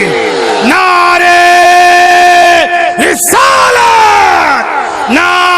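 A large crowd at a religious gathering roars a loud, drawn-out chanted response to a Nara-e-Takbeer call, with several sustained yells rising and falling in waves.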